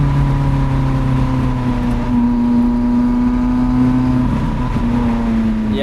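A Lotus Elise mid-engine sports car on semi-slick tyres climbing the Sustenpass mountain road, its engine a steady, loud drone from inside the cabin with a slight pitch change near the end.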